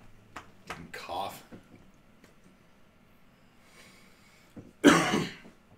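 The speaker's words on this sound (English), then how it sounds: "And cough." A single loud, harsh cough bursts out after a stretch of quiet speech and small mouth sounds, close to the listener.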